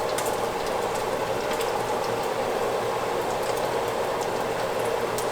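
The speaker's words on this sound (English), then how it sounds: "Now I'm going to stick these in the pan since we've got them all rolled up, and I'm going to sear them to keep them closed." Rolled-up food sears in a hot pan with a steady, dense sizzle and crackle. A few sharper pops rise above the constant frying hiss throughout.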